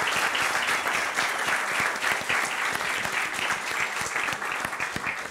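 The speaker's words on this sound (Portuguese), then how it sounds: "uma salva de palmas à organização" Audience applause for the organisers at a university talk on artificial intelligence, dense steady clapping from a large crowd that fills the whole stretch at even loudness, with no voices over it.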